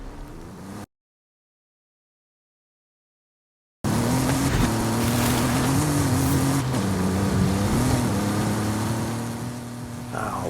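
Maserati Levante SUV in a video game, its engine droning loudly and steadily with shifting pitch as it drives, after a short silent gap at the start.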